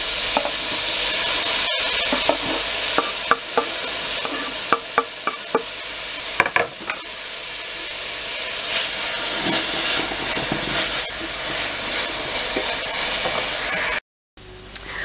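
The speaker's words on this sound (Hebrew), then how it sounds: "ואני מתגנת את הפלפלים שלנו כ-5 דקות מדי פעם לערבב עד שהם יותר רכים" Peppers frying in olive oil in a pan for shakshuka, a steady loud sizzle and hiss with repeated scraping clicks of stirring throughout, close up, no talk.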